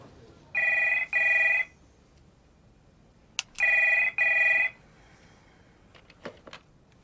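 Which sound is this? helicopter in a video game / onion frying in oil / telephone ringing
telephone ringing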